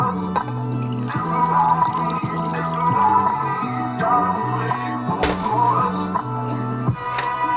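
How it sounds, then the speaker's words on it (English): A spoon stirring instant Kikusui Keyaki miso ramen broth in a pot, with soft repeated clinks and liquid swishes close by, fairly loud with a few sharper knocks. "So let's give this broth a quick extra stir."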